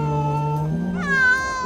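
Cats on an island call out in two drawn-out meows, the second rising higher and more strained, loud and close with no talking.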